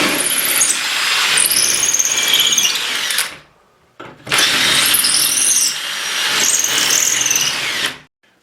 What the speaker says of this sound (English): That was just a regular carbide tip drill bit I used, and I didn't have the drill on hammer.